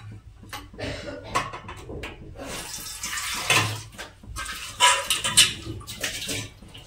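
Tap water runs into a cooking pot being washed in a kitchen sink, a steady splashing rush with clanks and scrubbing bursts, close and fairly loud.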